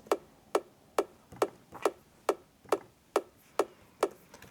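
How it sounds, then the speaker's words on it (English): A top kick drum sample from Splice, pitched down two semitones, hits nine times at an even tempo of about two per second, each a short sharp click-like thump, dry and alone. "Top kick sounds like this."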